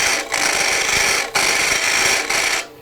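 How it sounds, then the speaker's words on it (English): A tool scrapes steadily to hollow out jumping cactus wood, making a loud, continuous rasping that pauses briefly twice. "And so I'm just scraping a little bit at a time"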